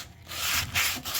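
A wad of aluminum foil with salt scrubs over a rusty cast iron pan in short, close, gritty rubbing strokes, a few quick passes with brief gaps between them.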